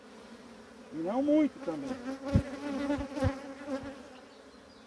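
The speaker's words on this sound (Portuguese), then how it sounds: "Você precisa agitar as abelhas, precisa pegar o quadro de lado assim" Honey bees buzz from an opened hive frame in a dense, wavering hum, while a person speaks briefly in Portuguese close by.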